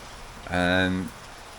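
Rain falls during a wet Camino hike between O Cadavo and Lugo, a constant soft hiss with a brief voiced tone rising over it midway.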